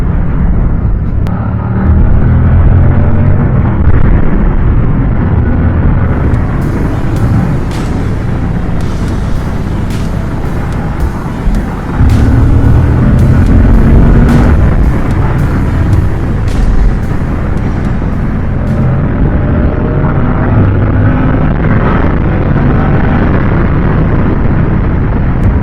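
A Moto Guzzi V100 Mandello S motorcycle cruising at about 105 km/h near 3,500 rpm, giving a loud, continuous engine drone mixed with heavy wind rush for the whole stretch.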